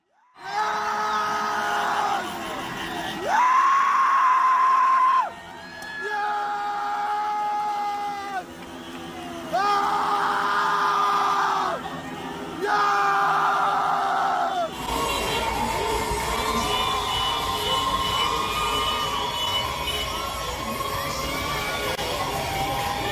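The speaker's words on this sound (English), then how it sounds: "witnesses reported cheering in the streets near the district where he usually resided" Crowd cheering and yelling in the streets of Iran, loud and sustained, with rising surges of voices and whoops that swell and fall in waves before settling into a denser, continuous roar of many people.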